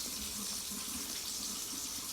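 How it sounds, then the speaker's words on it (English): Hot water runs from a kitchen sink tap as pasta is about to be drained, a steady, fairly loud rushing hiss that holds unbroken throughout with no voices. "I'm gonna get ready to turn my sink on hot."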